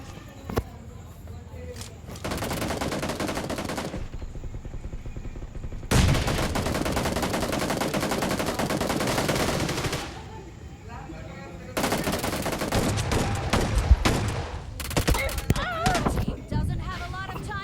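Rapid shotgun fire in the mobile battle royale game Battlegrounds Mobile India, with loud sustained bursts of gunfire separated by brief pauses, a player talking over it.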